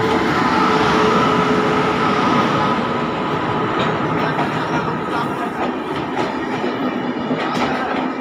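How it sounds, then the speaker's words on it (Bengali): The 13011 Intercity Express rolls into Bolpur station in the evening, with a loud, steady rumble of wheels and rhythmic clatter over the rails, heard close from on board and easing slightly as it slows. "আমাদের ট্রেন ঢুকে গেল বোলপুর স্টেশনে।"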